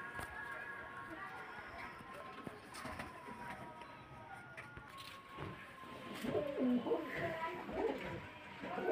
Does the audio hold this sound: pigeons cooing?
yes